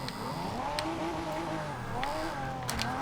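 In Forza Horizon 2, a 2012 Pagani Huayra's engine pulls hard under acceleration, its rising engine note fairly faint and continuous, with brief sharper bursts scattered through.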